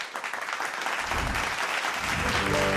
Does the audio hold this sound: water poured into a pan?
no